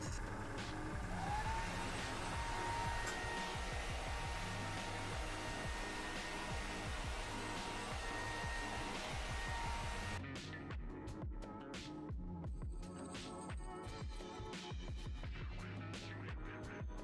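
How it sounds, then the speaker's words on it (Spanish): A hair dryer blows steadily on a freshly painted miniature figure, a constant close whirring roar with a faint tonal whine that continues throughout, shifting slightly in character partway through as the airflow changes position. "Voy a darle un toque con el secador y ahora vengo, ¿vale?"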